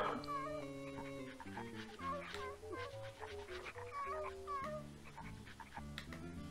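Dog whimpering and sniffing in the King's Quest VII adventure game, short whines under a busy layer of game music and effects, with a voice talking over it.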